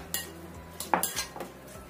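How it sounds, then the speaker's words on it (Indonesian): Metal utensil scraping and clinking against a pan as eggplant with sesame oil is stirred, a few soft knocks and scrapes over a quiet background. "Kita aduk rata."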